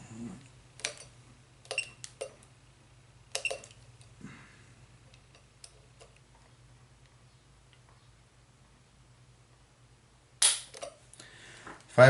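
A Lyman trigger pull gauge tests the trigger on a Springfield XD pistol, giving a few sharp isolated clicks and metallic snaps spaced several seconds apart, close and quiet, with a brief louder clatter near the end over a faint steady hum.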